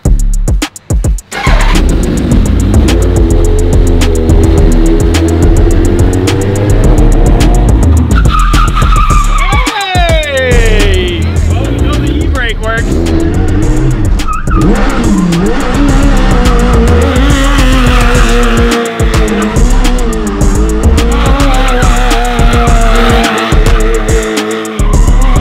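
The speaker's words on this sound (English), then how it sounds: "You're gonna want to keep those back tires spinning." A mini truck fitted with a sport-bike engine drifts, its rear tires squealing loudly and continuously while the high-revving engine screams and rises and falls in pitch, with brief voices in the background.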